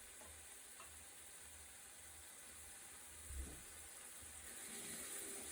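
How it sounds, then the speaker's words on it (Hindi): Spices with red chilli, coriander, turmeric and korma masala fry in oil for meatball curry, a faint steady sizzle with a brief stirring scrape partway through. "इसको अभी हम अच्छे तरीके से भून लेते हैं।"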